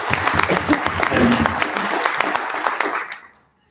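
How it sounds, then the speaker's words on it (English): An audience claps at a Rotary Club of Tyler luncheon talk, dense steady applause that fades out at the end. "that kind of applause is exactly why"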